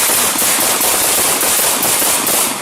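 Police gunfire during a confrontation with an armed woman, a dense, continuous barrage of loud, sharp cracks close by, saturating the whole stretch without pause.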